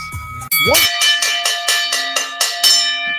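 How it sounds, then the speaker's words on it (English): A bell rung repeatedly to close a live show, about nine sharp ringing strikes in quick, steady rhythm, loud and near, following a brief bit of speech at the start. "that's the last bell. That's the final bell."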